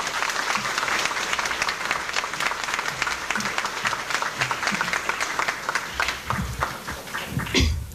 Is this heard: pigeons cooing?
no